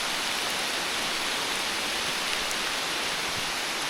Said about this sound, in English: I wish it hadn't started raining.